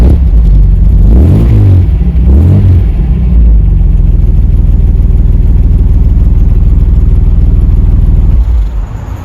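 A loud Mk1 Ford Granada engine, heard from outside the car, rumbles and revs nearby, rising and falling twice before settling into a steady deep idle that fades at the end.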